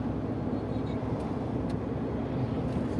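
A truck rolling slowly along a road toward Zviahel, heard from inside the cab as a steady, even engine and road rumble, fairly loud and continuous with no talk.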